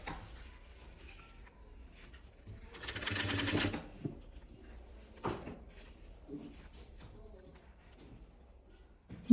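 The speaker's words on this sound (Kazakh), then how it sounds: "мынау шнурды бейканың ортасына салып тігіп шығамыз" A sewing machine stitching cord into the binding of a dress runs in a short, steady whirring burst of about a second, with quiet handling sounds and faint talk around it.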